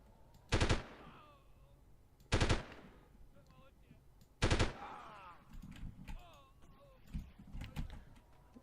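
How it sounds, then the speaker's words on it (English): Sniper rifle fire in the 1998 Delta Force game, three loud, sharp cracks spaced about two seconds apart with ringing tails, followed by softer scattered in-game thuds and movement. "Someone's shooting at me from over there. It's a sniper."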